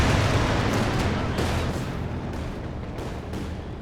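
Strafing gunfire from airborne units in the strategy game Company of Heroes 2, a dense, continuous roar of rapid shots and blasts that stays loud and fades slightly, with short bursts cutting in near the end.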